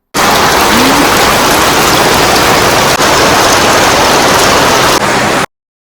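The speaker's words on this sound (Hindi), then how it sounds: "बहुत तेज़ वाली बारिश हो रही है।" Heavy rain pours down steadily and loudly outdoors, a dense unbroken hiss with no pauses and no voices, ending abruptly.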